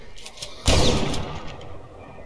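A single heavy shotgun blast fired point-blank in The Last Stand: Aftermath, a sudden loud boom that decays over about a second, following a few softer thuds.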